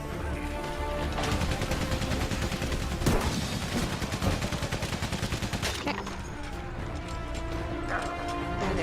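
Rapid World War I machine-gun fire in the Valiant Hearts game, a dense rattling stream of shots with a few heavier impacts, loud and continuous throughout.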